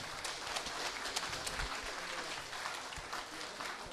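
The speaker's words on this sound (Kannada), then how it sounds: "ಜೋರಾದ ಚಪ್ಪಾಳೆ ಹಾಕಿ" An audience clapping at an award ceremony: a dense, continuous patter of many hands, moderately loud and sustained throughout.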